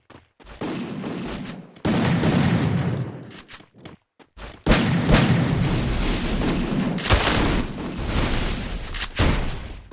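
Heavy gunfire from an M10 in the video game Garena Free Fire, with long continuous bursts of rapid shots filling the space, broken by a few short pauses, loud and close.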